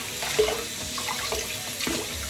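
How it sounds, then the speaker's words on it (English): A bathroom sink tap runs steadily while someone rinses their face during a morning skincare routine, a close, continuous splashing with small bursts as hands move through the stream. "And now I'm just going to rinse off"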